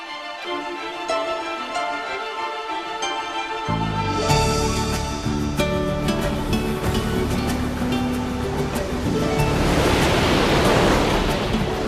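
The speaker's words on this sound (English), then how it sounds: "The waters of the world ocean wash the warm volcanic coastline of Hawaii." Ocean waves wash against Hawaii's warm volcanic coastline, a steady broadband surf that swells louder partway through, with layered tones running underneath and no speech.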